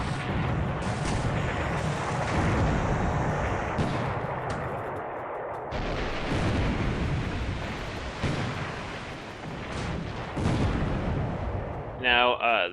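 A warship's ammunition magazine explodes during a World War II naval battle game, a long, heavy rumbling roar with repeated deep booms like gunfire layered throughout, sustained and loud.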